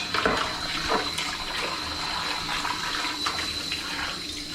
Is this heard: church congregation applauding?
no